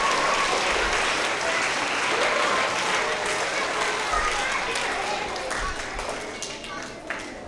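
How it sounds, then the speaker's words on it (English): Crowd of students and families at an elementary school award assembly gives teachers and staff a long round of applause, dense clapping that gradually thins and softens, with faint children's voices in the mix. "if we can give them a big round of applause"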